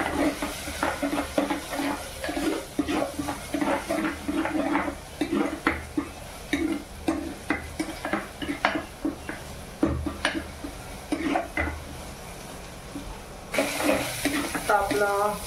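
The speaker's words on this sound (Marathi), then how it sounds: "आता आपला कढीपत्ता पण फ्राय झाला आहे।" Curry leaves and onion frying in hot oil with salt, steady sizzling under a long run of rhythmic stirring scrapes and spoon knocks against the pan, with the hiss growing brighter near the end.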